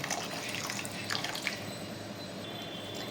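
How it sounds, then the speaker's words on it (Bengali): Hot water is poured into a hilsa fish malai curry mixed with coriander paste, a continuous close splashing and trickling stream with small drips throughout. "এরপর এর মধ্যে দিয়ে দেবো স্বাদ পরিমাণ মতো গরম জল।"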